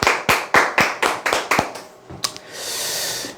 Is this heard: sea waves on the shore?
no